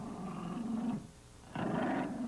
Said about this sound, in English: This is a dog growl.